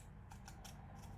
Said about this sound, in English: Now I want to make sure to cut on that line